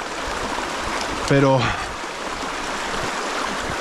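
A clear mountain stream running over small rapids, a continuous close rushing and trickling of water, with a brief voice speaking over it.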